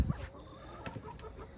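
Chickens cluck softly in a yard where birds are kept, a few scattered low clucks and faint calls heard at a moderate distance over quiet outdoor background.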